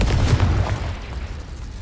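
The Confringo fire spell explodes in Hogwarts Legacy, a loud, deep, booming blast that rumbles and then fades over the next second or so, with no speech.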